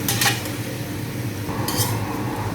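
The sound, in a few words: stir-frying napa cabbage with vegetarian tofu in pan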